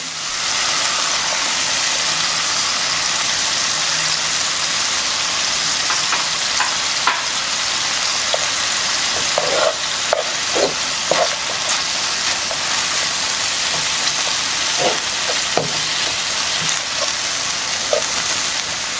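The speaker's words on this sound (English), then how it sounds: "Once you've coated all your al pastor with that oil and it's sizzling well" Al pastor pork with onions, coated in oil, sizzles steadily and loudly in a hot pan, with scattered pops and light stirring clicks throughout and no speech.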